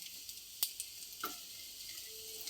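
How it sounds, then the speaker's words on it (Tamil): Colocasia (taro root) stir-fry sautéing in oil in a pan, a faint steady sizzle with a few soft clicks of stirring. "நல்லா சிம்மில் வச்சு வதக்கி எடுத்துட்டா சேப்பங்கிழங்கு பொரியல் ரெடி"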